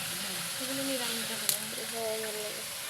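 Vegetable stalks frying in a pan give a steady, moderate sizzle, with voices talking over it and a brief sharp click midway.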